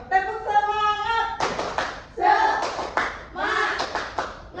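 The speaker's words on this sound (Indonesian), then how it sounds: "Ayo kita tepuk semangat dulu nih." A class of schoolchildren performs the rhythmic 'tepuk semangat' routine in a classroom: chanted group voices alternate with bursts of quick, patterned hand claps, loud and close.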